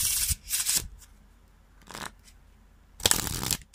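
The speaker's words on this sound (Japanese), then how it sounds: "リフルシャッフルです。" Three bursts of a stiff, hard deck of playing cards being riffle shuffled, each a loud rippling flutter of cards interleaving, close up with short quiet gaps between.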